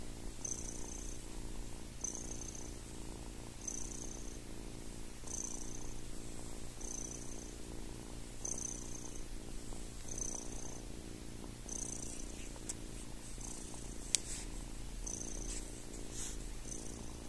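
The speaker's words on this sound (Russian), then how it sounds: "Ой, мурчит." A female cat purrs steadily and softly up close, a continuous low rumble that runs throughout, with faint high ticking above it and no talk.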